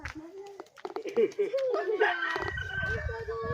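A hoarse, raspy chicken with a cold clucks and croaks up close, mixed with a person speaking Filipino nearby.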